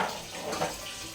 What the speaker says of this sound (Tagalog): lagyan po natin ng ano, ng tubig para at least kumulo na doon